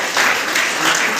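Summer camp participants in a large crowd burst into loud, dense clapping that stays sustained across the short moment.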